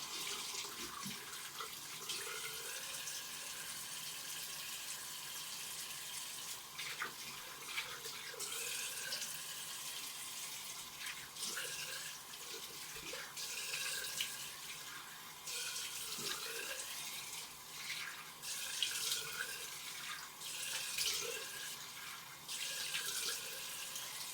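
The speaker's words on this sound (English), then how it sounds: "So anyway, gonna rinse this off." Tap water runs steadily into a sink while cleanser is rinsed off a face, a soft continuous hiss broken by small splashes from the hands.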